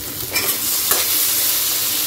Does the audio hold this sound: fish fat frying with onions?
yes